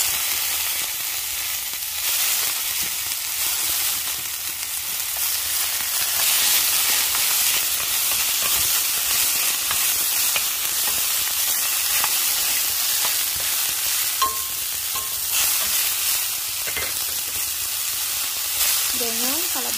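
Sitaw string beans with shallot fry in a hot pan, giving a dense, steady sizzle and crackle throughout with occasional scrapes of stirring; a voice speaks briefly near the end.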